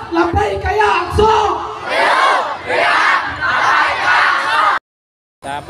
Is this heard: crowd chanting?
yes